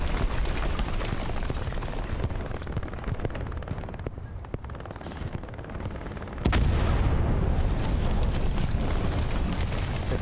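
A Luchs tank explodes during a multiplayer World War II video game match on the Kharkov map, set within a dense, continuous roar of gunfire and blasts, with a sudden louder surge of noise partway through.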